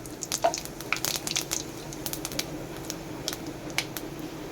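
Five-spice seeds and dried chillies spit and crackle in hot oil in a pan, with a quick burst of sharp pops that thin to scattered sizzles.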